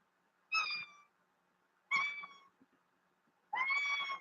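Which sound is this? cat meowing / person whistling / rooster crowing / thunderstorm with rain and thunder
cat meowing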